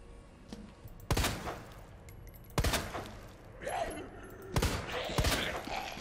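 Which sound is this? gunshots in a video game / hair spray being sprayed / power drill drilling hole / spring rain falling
gunshots in a video game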